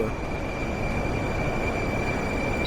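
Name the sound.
Tashkent metro train running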